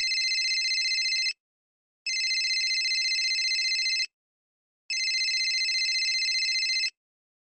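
A phone rings with three long electronic buzzing bursts separated by short silences, clear and steady, with nothing else around it.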